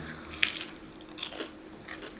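Bites into crunchy breaded KFC fast food, giving a sharp crisp crunch followed by softer crackling chews, close and quiet, with no talking.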